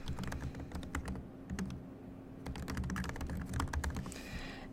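Keys clatter in quick bursts as an assignment title is typed on a computer keyboard, fairly close and steady, with short pauses between runs of keystrokes and no voices.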